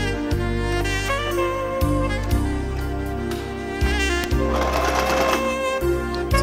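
A sewing machine stitching a design on a chudidar top runs in a steady, loud mechanical whir, stopping and restarting several times in short bursts close by.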